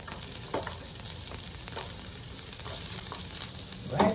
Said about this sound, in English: time to add oil, and I'm gonna add some of the onions